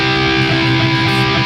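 A short phrase from the guitar solo of a song: loud, distorted electric guitar with sustained notes, played alone without any voices.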